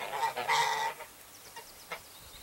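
A goose honks nearby in a short loud burst, followed by fainter chirps and a brief call, with no talking.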